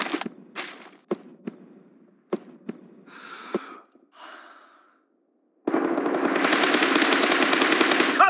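M416 rifle in the PUBG Mobile game: a few scattered single shots and breathy sounds, a short silence, then a loud, sustained burst of rapid automatic fire that runs to the end.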